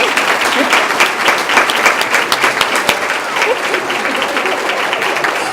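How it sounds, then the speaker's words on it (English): At an annual celebration program, an audience claps for two children, loud and dense, with sharp individual claps standing out and crowd voices mixed in beneath. "Can we get another round of applause for Idalia and Naomi?"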